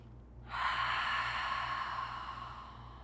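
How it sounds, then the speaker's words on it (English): A long, steady cleansing exhale during a quiet yoga session on a mat, rising suddenly and trailing off slowly, breathy and close with no talking. "Let the mat take all of your weight and give yourself a cleansing breath."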